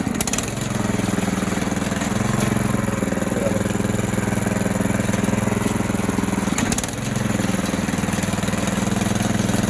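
DTZ 470B walk-behind tractor engine running steadily in third gear, a close, loud, rhythmic single-cylinder putter with a brief dip and clatter partway through.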